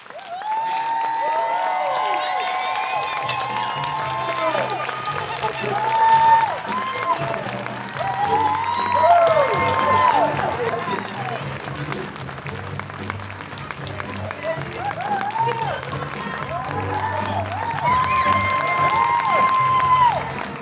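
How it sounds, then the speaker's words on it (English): A large standing audience at a veterans' festival opening applauds and cheers loudly and steadily for about twenty seconds, with whoops and shouts rising above the clapping and a bass-heavy music bed running beneath. "everybody stand up on your feet and give her the best applause that she's ever"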